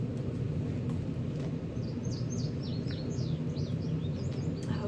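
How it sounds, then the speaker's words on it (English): Small birds chirp outdoors in quick, light bursts through the middle and end of the moment, fairly faint and distant above a steady low background hum, with no talking. "I hope you can hear the birds,"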